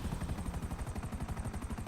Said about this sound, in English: I'm just in my helicopter